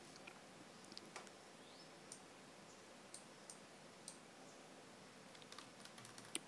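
Soft, scattered keystrokes tap on a computer keyboard at an uneven pace, faint and close against a quiet background hiss.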